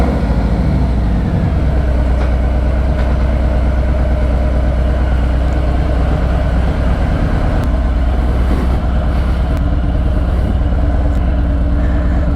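Steady loud engine drone from a motorcycle ride with a GoPro clamped on, a continuous low rumble throughout with faint clicks and no talk.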